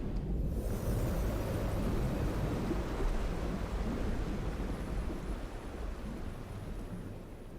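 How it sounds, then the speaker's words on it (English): Heavy, steady low rumbling with a rushing-water roar from a fantasy game scene in Pillars of Eternity, a continuous dense wash that stays loud throughout and eases slightly toward the end, with no talking. "A heavy rumbling stirs from the ground, and from all around you comes a sound of rushing water"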